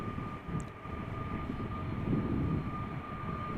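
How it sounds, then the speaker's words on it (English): An Air Transat Airbus A330-200 taxis toward the runway at Amsterdam, a steady broadband engine roar with a faint high whine, constant and fairly distant throughout. "In the foreground we have Air Transat, Airbus A330-200, destined for Toronto"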